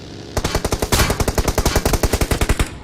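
Automatic gunfire in the mobile game PUBG Mobile, a loud, rapid string of roughly twenty evenly spaced shots fired without a break, with no talking.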